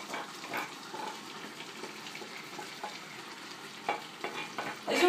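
Zucchini and other pisto vegetables being stirred in a frying pan, with a steady low sizzle under scraping and clacking utensil strokes that grow busier toward the end; no talking.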